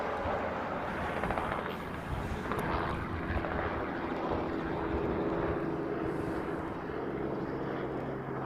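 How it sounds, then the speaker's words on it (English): A FedEx Boeing 777 taxiing at Honolulu airport sends out a steady, loud jet engine roar with a low rumble underneath, holding fairly constant from a moderate distance. "So we have a FedEx 777 that's currently taxiing down Romeo Bravo."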